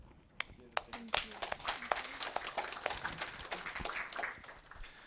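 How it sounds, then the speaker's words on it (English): A small audience at an Osaka Java user group meetup gives a quiet round of applause, with scattered individual claps that thicken briefly and then fade. "round of applause"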